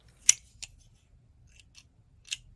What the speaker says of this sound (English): I love these thread snips, particularly for thin thread.